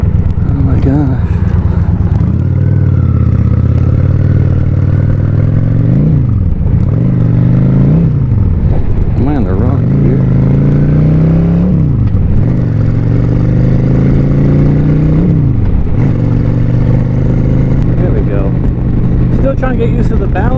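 A learner rider works a motorcycle engine on gravel, revving it up and easing off several times in rising and falling sweeps. The engine is loud, close and constant throughout, with some wind buffeting.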